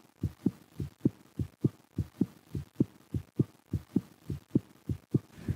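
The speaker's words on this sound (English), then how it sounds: "Really considering the heartbeat as the most beautiful sound that I think is possible." Steady heartbeat, a regular lub-dub pulse of about seventeen low thumps over five and a half seconds, each beat distinct and close with a soft hum between them and no talking.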